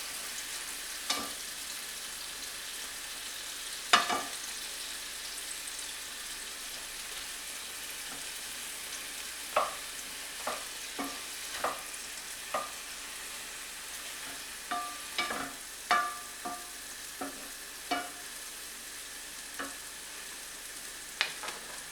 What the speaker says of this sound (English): any soy sauce will do. This will help the mushroom cook faster.